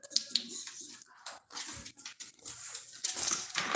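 A puppy whimpers and whines in short, high bursts close by, with soft pattering and light household clatter around it, indoors in a home.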